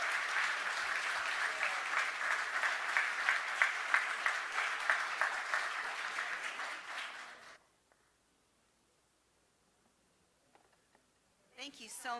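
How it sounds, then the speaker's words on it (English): Dense, sustained applause for graduates at a 2019 leadership development program graduation ceremony, filling the room for several seconds and then stopping abruptly, followed by near silence before a voice starts speaking. "can I get another round of applause for all of our 2019 Bright Futures Leadership Development Program graduates?"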